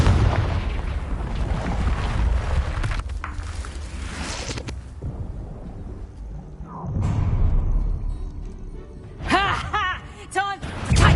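Confringo blasting spell explosions in the Hogwarts Legacy game, heavy booming blasts and rumbling bursts mixed with battle effects and shrill magical whooshes, loud and close throughout.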